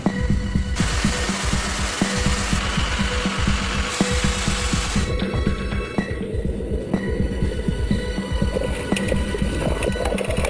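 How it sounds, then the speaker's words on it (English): Gold dredge engine running steadily underwater-side, a continuous low throbbing, knocking chug with dense rhythmic pulses and broadband mechanical hum, loud and close throughout with no talk. "The dredge is an underwater vacuum that sucks up dirt and gravel and sends it to the wash plant for processing"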